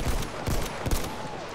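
Rapid bursts of automatic gunfire in the online shooter Battlefield 1, a few sharp close shots in quick succession, then tapering off.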